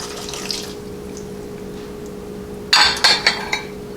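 One cup of water poured into a pot for a spiced apple cranberry sauce, a short splashing burst with a few clinks near the end after a quiet stretch.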